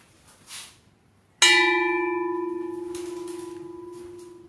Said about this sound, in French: Donc ça, on sonne les cloches